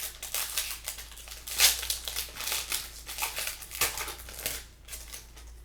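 Wrappers from 1995 Pacific Collection Prism football trading card packs crinkle and tear as they are opened, giving close, irregular bursts of crisp plastic rustling that rise and fall over several seconds with no talking.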